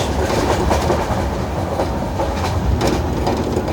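A Nizamuddin–Ernakulam Duronto Express sleeper-class coach running at 120 km/h, heard from inside as a loud, continuous rumble with rhythmic wheel clickety-clack on the rails.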